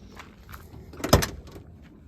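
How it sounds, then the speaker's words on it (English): An interior door panel is pressed onto a Ford Foxbody car door, giving a dull plastic thump and rattle midway through against a quiet background. "Now let's get the door panel on here."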